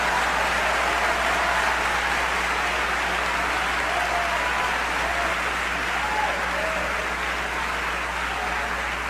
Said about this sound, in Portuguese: Aplaude ao Senhor, aplaude ao Senhor.